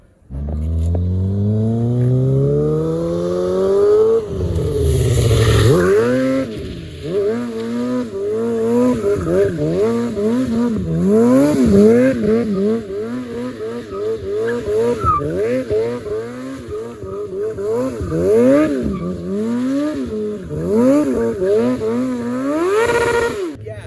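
A motorcycle being drifted on heavy throttle, its engine revving hard in repeated rising and falling surges with tire skidding and squeal, loud and close throughout, opening with a long climbing rev.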